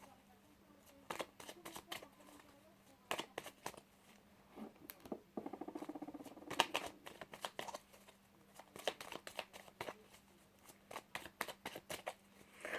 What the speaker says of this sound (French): J'aime trop le mélanger, ce jeu.